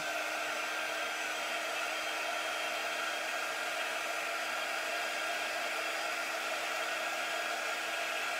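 A heating tool, sounding like a hair dryer, blows a steady, even whoosh without pause while warming stained wax on sanded wood.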